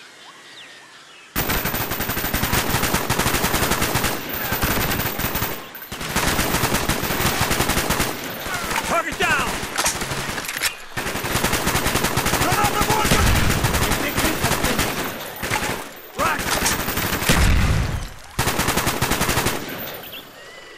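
Sustained bursts of automatic gunfire and rifle shots from the Call of Duty: Black Ops video game in a Viet Cong complex, loud and dense with brief gaps, a voice speaking briefly over the shooting.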